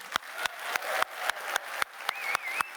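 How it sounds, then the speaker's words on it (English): Audience applause at a corporate manufacturing forum, heard as a string of evenly spaced sharp claps roughly three per second over a soft bed of wider clapping, moderately quiet and without talk. "I would like to invite the world to applaud you one more time"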